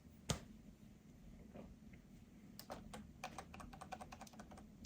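Quiet key presses on a PowerBook 3400c laptop keyboard, one sharp click first, then a quick irregular run of taps over a low hum.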